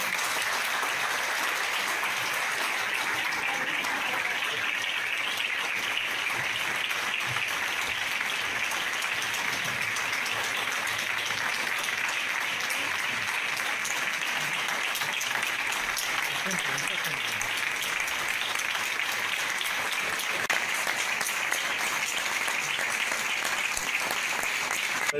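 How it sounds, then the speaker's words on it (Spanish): Sustained audience applause at a ceremony honoring a lifelong shellfish gatherer, steady dense clapping lasting the whole stretch, fairly even in loudness with a faint murmur of the crowd beneath. "Un aplauso."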